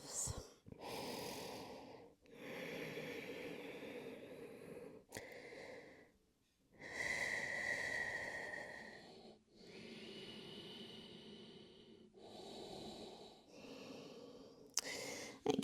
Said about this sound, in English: Let's take a couple of breaths.